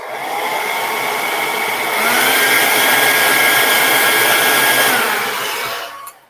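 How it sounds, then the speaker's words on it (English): A hair dryer whirs loudly and continuously at close range, its pitch rising a little partway through before it shuts off and spins down. "So there's the hairdryer"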